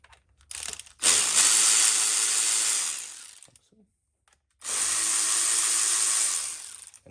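Two long bursts of a power ratchet or impact tool loosening the rocker box studs on a 6.0 Powerstroke engine during a head gasket teardown, each lasting a couple of seconds, loud and close, with a short quiet gap between them.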